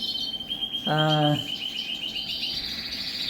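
Young lesser and mealy redpolls in an aviary give short chirps and calls, including one brief stacked call near the middle, over a continuous high-pitched background tone.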